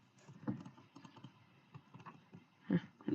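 Keys on a computer keyboard click and clack irregularly, a few harder presses standing out, with quiet room noise behind.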